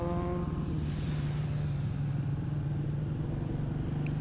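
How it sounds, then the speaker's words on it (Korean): Motorcycle engine on the road, a steady close low rumble with a droning tone, continuous throughout with no talk. "여기저기서 바이크 소리들이 들렸습니다."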